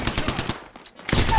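Rapid automatic gunfire from Apex Legends, a loud burst of repeated shots for about half a second, a short lull with faint activity, then another dense, loud volley.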